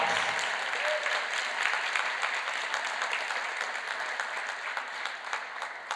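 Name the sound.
audience applause for squash finalist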